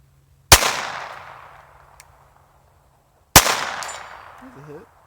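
Two sharp, loud shots from a Taurus TX22 .22 pistol fired at steel plates, about three seconds apart, each followed by a long fading ring and echo.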